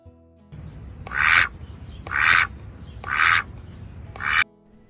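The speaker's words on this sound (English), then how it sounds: "duck," A duck quacks in four loud, evenly spaced bursts, each a harsh nasal squawk, heard close and alone against a faint low background.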